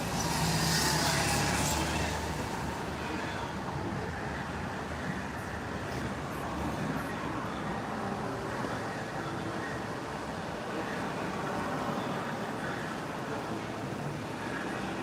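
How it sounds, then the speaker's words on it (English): Road traffic rushes past outside a moving vehicle, a continuous broad roar with heavier swells near the start, fairly faint and steady throughout, with no talking. "Where all this traffic come from now?"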